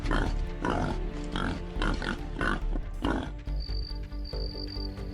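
Feral wild boar grunting in a repeated rhythmic series of rough pig-like bursts over a steady low drone, fairly close and loud, fading to quieter grunts near the end.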